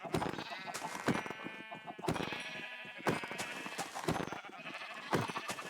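Sheep in a farming survival video game bleat repeatedly, with several overlapping calls recurring about once a second at steady, fairly close volume and no talk.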